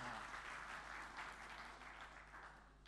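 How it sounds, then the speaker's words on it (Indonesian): A church congregation at a Christmas service applauds in a steady, dense wash of clapping that stays fairly soft and distant for the full three seconds. "tepuk tangan dulu"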